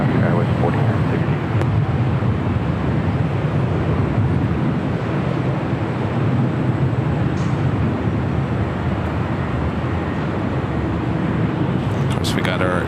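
A SkyWest airliner takes off from LAX, its jet roar a broad steady rush held loud across the whole stretch, with faint background noise.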